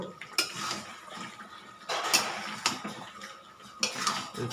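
A spoon scrapes and clinks against a pan while spiced food is sautéed and stirred in a home kitchen, with sharp metallic knocks at irregular intervals over a soft background, no voices.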